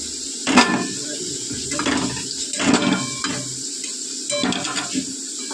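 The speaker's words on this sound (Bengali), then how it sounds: "তেলের মধ্যে পেস্ট করে রাখা মশলাটা দিয়ে দেবো" Spice paste dropped into hot oil sizzles in a pan, with a steady hiss and several clattering stirs at irregular intervals, close up.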